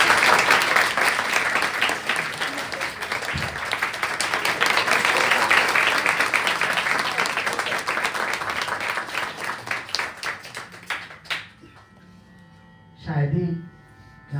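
An audience at a classical Indian music concert, a Raag Jogkauns performance, claps in a dense, fast patter for about eleven seconds before it thins out and stops. A voice speaks briefly once the clapping ends.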